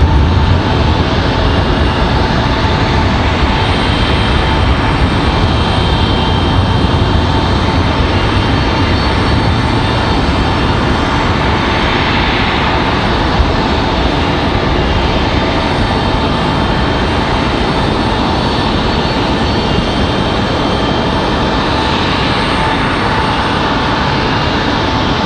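A PSA Airlines plane passes at Raleigh-Durham International Airport, a loud, close, continuous roar of engine noise that stays constant throughout, with no talk.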